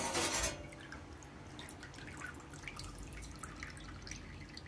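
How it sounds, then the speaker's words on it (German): Water dripping off a freshly plasma-cut metal house number after a brief louder splash at the start, then scattered soft drips and trickles close by. "Ja, ich lasse erstmal noch abtropfen."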